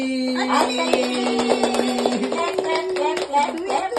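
Children clap their hands at an anniversary celebration, brisk uneven claps under a sustained high tone and lively voices of kids and adults talking.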